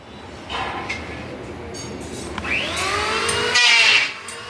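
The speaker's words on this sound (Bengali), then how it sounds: "ধান মারাই মেশিন, একবারেই সাফাই হয়।" A mini rice threshing machine runs with a continuous loud mechanical roar, its pitch rising and shifting as it works, close by with no pauses.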